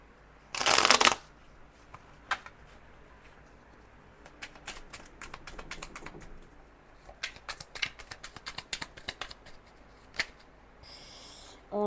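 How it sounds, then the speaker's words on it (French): A small oracle tarot deck is shuffled and cards are drawn for a reading: a quick riffle burst near the start, then scattered soft card slides, taps and flicks. The sounds are close and quiet, with no talking. "Je prends une dernière petite carte du petit oracle du tarot pour terminer cette guidance"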